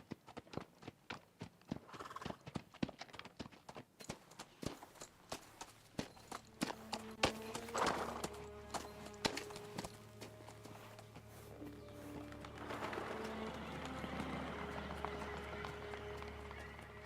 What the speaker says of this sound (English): A lot of horses I'm hearing.